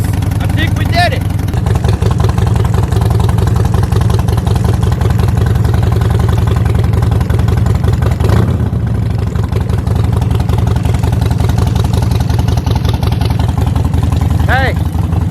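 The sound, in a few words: Harley-Davidson Sportster motorcycle engine idling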